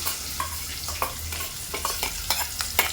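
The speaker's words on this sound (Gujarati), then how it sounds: "હવે ડુંગળી નાખી એને આપણે સારી રીતે પકાવશું" Onion frying with cumin seeds in a pan for egg curry, a steady sizzle broken by regular scraping stir strokes, close and moderately loud with no voices.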